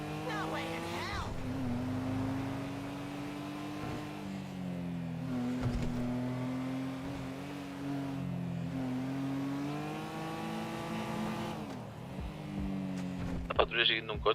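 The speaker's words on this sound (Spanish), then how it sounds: "La patrulla siguiendo un coche." Car engine revving and droning steadily with shifting pitch during a police patrol car chase in a roleplay video game, with people talking over it throughout.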